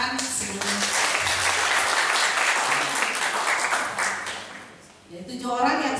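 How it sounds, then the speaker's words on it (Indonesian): Brief applause from the crowd at a university public selection hearing swells quickly, holds for about four seconds, then dies away before faint background sounds return. "Tepuk tangan sebelumnya."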